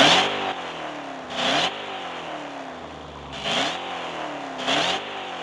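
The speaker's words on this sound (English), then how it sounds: "the best V8 engine sounding car in car parking multiplayer 1 is the Dodge" A Dodge Charger V8 in the Car Parking Multiplayer game revs in three or four quick bursts, each rising and falling back to a steady rumbling idle between them, loud and close with no voices.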